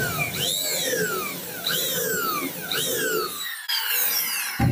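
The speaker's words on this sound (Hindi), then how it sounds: "यहाँ पर एक सुराख करेंगे। यहाँ पे जो सुराख करेंगे ये बोल्ट के हेड के लिए करेंगे।" A power drill bores a hole into wood for a bolt head while building a bed with drawers, three rising-and-falling whining bursts in quick succession, close and loud, ending with a short pause and a final jolt.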